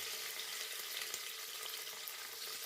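Chopped onion sizzling in hot oil with mustard seeds inside a pressure cooker, a steady dense hiss that stays even and close throughout, with faint stirring ticks and no talking.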